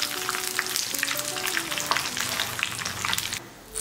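Curry leaves crackle and sizzle steadily in hot oil for a sambar tempering, a close, continuous spitting fry with dense bright pops that drops away near the end.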